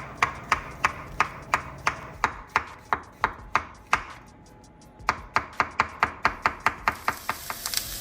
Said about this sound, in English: we're going to slice our mushrooms